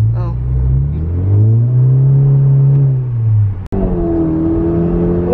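A car accelerates hard from inside the cabin, its engine note climbing steadily in a loud rumbling rise, then dropping briefly at a gear change before pulling up again, with passengers talking over it.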